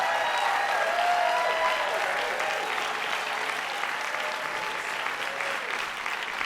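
An audience applauds steadily for a storyteller named Annie, a dense wash of clapping that stays strong throughout and eases slightly toward the end.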